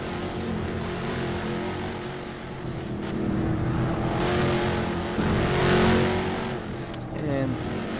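Race cars lapping a road course, engines droning and revving continuously as cars pass, with a commentator talking over the racing noise.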